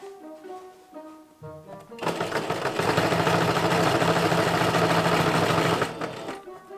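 A sewing machine runs steadily for about four seconds, stitching darts on a leather jacket collar; it starts abruptly after a brief musical lead-in and then stops, with a faint tail of background music.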